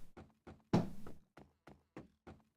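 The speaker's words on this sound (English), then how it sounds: "There's also a unique sound if you place the blocks or walk over the blocks." Blocks being placed and walked over in Minecraft, a run of short hollow wooden knocks in an uneven rhythm, one fuller thud near the start, crisp and close with silence between hits.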